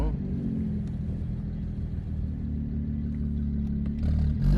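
BMW N54 car engine with a T51 single turbo, heard from inside while driving: a steady, loud low rumble and drone that swells slightly toward the end, with some talk in the cabin.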